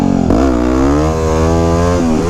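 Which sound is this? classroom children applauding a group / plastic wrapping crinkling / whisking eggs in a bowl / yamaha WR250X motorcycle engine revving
yamaha WR250X motorcycle engine revving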